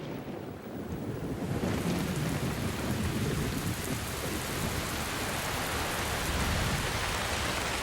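Heavy rain pours across the Amazon rainforest in a dense, hissing downpour that builds quickly in the first seconds, with low rolling thunder rumbling beneath the steady roar.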